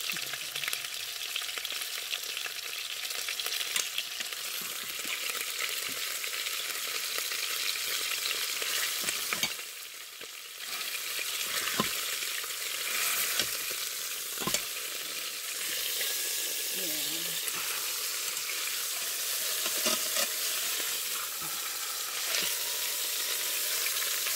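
Beef pot roast browning in a hot pan for a Mississippi pot roast gives a steady, close sizzle and crackle that runs throughout, with a brief dip partway and a few stirring clatters.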